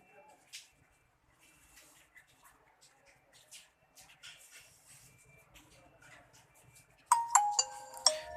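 A Nokia 5310 mobile phone plays a short bright power-on melody after its battery is reinserted, ringing out loud and close near the end, following quiet handling noises and soft background speech.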